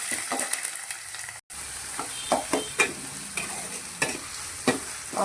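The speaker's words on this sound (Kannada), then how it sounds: "ಇವಾಗ ನಾನು ಬಾನಲ್ಲಿ ಎಣ್ಣೆಯನ್ನು ಹಾಕ್ ಹಾಕ್ತಿದ್ದೇನೆ ಕರಿಬೇವನ್ನು ಸೇರಿಸ್ಕೊಂಡಿದ್ದೇನೆ ಇವಾಗ ಇದಕ್ಕೆ ಆನಿಯನನ್ನು ಸೇರಿಸ್ಕೊಂಡಿದ್ದೇನೆ" Onions and curry leaves frying in oil in a pan, a bright crackling sizzle broken by frequent spatula scrapes and taps in an uneven rhythm, with a momentary dropout early on and no talk.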